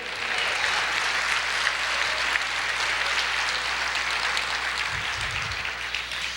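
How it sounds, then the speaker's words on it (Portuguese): Sustained applause from a church congregation, a thick, even wash of many hands clapping that continues throughout, with a brief low thump near the end. "aplauda o Senhor"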